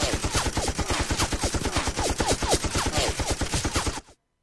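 Rapid automatic gunfire rattles in a dense, continuous burst of evenly spaced shots for about four seconds before cutting off abruptly, with no talking over it, in a dubbed animated shootout.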